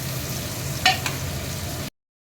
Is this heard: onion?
yes